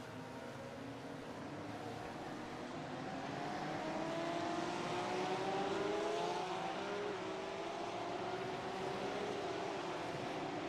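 GT3 race cars roll behind a BMW pace car at Spa-Francorchamps in iRacing, a dense layered engine drone with slowly rising pitch lines, steady and continuous with no talk.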